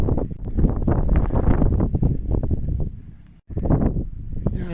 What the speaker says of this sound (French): avec ce vent fou